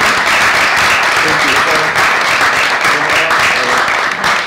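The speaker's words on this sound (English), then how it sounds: "So I think that we should applaud Carlos." Dense, steady applause from a small group at a gathering, loud and close and holding without a break, with a voice faintly mixed in.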